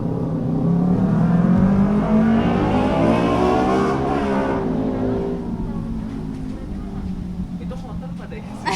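Motorbikes pass close by with a loud engine drone that rises and then sweeps downward in pitch, fading over several seconds while voices murmur underneath.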